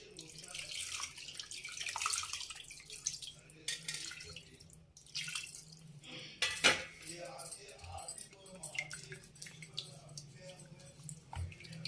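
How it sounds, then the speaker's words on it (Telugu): Water is poured into a pan of fish curry, running and splashing steadily, with metallic clinks of the pan and utensils, a close, busy kitchen sound. "ఇప్పుడు సరిపాను వాటర్ పోసుకుందాం."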